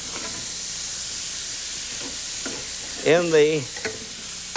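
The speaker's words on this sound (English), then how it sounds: "we want to add our nice onions, and we'll saute those" Onions sautéing in rendered bacon and chicken fat make a steady, soft sizzle across the clip, with a brief voice cutting in near the end.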